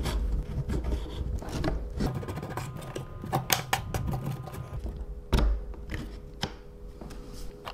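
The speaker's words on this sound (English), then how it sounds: "The gear have to be in place when I push the 8x120mm shaft through it." An 8x120mm steel shaft is forced through a 3D printed gear, giving scraping, rubbing friction with sharp knocks and creaks, steady and close, with no talk.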